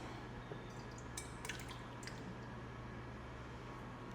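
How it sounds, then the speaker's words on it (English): Eggs slip from their shells into a mixing bowl for carrot cake cupcake batter, giving a few soft, wet plops and drips close by over a low steady hum, with no talking. "So we're gonna start by adding our eggs"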